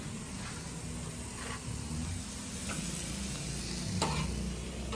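Food cooking in a pan, with a constant close sizzle and hiss under several soft scraping stirring strokes at an irregular pace.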